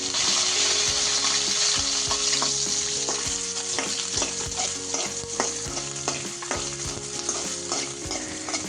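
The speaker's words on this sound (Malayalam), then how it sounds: "കുറച്ച് വെളിച്ചെണ്ണയിൽ നമുക്ക് ആ തേങ്ങയൊന്ന് വറുത്തെടുക്കാം" Grated coconut frying in coconut oil for an egg omelette curry, a steady close sizzle with repeated scraping and stirring strokes of a spatula in the pan throughout, no voices.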